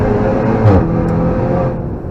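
A car accelerates on the Nürburgring track, heard from onboard. The engine note is loud and steady and rises briefly with throttle, then eases slightly at the end. No speech is heard.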